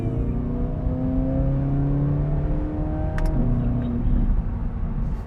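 A Corvette ZR1 supercar accelerates hard, its engine note climbing steadily through a gear before a brief dip at a shift and then pulling strongly again, loud and close from inside the car.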